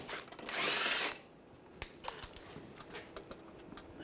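A ratchet with a 10mm socket loosening the shield bolts on a 2013-2016 Dodge Dart during radiator fan replacement, a short burst of clicking followed by scattered metallic ticks and clinks, close and fairly quiet.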